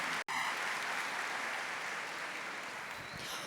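Audience applause at a talk on behavioral strategies for anxiety, a steady dense wash of clapping filling the room after a brief cut at the start, fading slightly toward the end.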